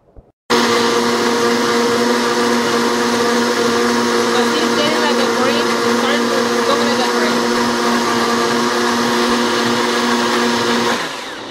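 A blender mixing hot yellow pepper sauce with milk starts abruptly and runs as a loud, steady high-pitched whir for about ten seconds before spinning down, close by and alone.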